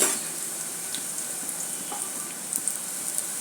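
Onions frying in a pan for masala macaroni, a steady soft sizzle with faint crackles and occasional small pops, close and even throughout, with no talking.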